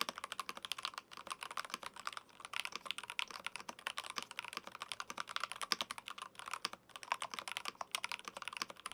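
Steady rapid typing on a DrunkDeer G75 magnetic keyboard, dense clacky keystrokes continuing throughout at close range with no talking.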